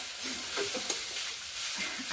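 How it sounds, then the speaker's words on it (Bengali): Continuous soft hiss and crackle of colocasia frying in oil in a pan, with faint stirring sounds underneath; no voices. "এখানে যে ছোলা কচু ভাজা করছি তাহলে হয়ে যাবে"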